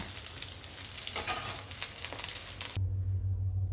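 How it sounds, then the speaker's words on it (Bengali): Pieces of bata fish rubbed with salt and turmeric fry in hot oil, giving a steady close sizzle. It cuts off abruptly near the end, leaving a low hum. "ওই তেলে আমি বাটা মাছ কেটে রেখে লবণ হলুদ মেখে রেখেছিলাম সেটা ভাজা করে নিচ্ছি"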